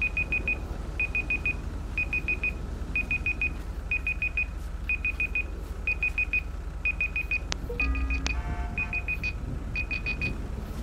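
Electronic timer in Grand Theft Auto V with the LSPDFR police mod, beeping in rapid bursts of several short tones that repeat roughly every second over a constant low hum, with a few other brief electronic tones near the end.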